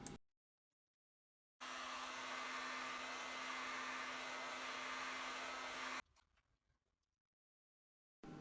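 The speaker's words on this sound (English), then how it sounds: "I'm using a heat gun and I'm just heating it" A heat gun blows steadily for about four seconds while heating basket wires, a loud even airy hiss with a faint hum, then cuts off, leaving a few soft handling taps.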